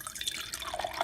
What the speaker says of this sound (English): So give it a good pour.